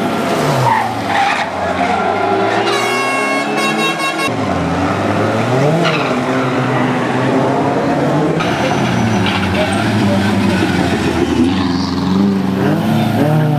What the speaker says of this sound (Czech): Takže Zdeněk Švajda s Dominikem Kubínem nás opouštějí a my zveme Tomáše Carbo